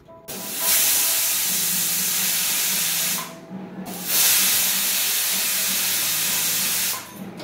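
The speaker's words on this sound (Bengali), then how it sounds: "দুটো সিটি দিয়ে তারপর প্রেশার কুকারটা অফ করে" A pressure cooker cooking pumpkin with spices lets off loud, sustained jets of hissing steam, two long blasts separated by a short pause, close and filling the space.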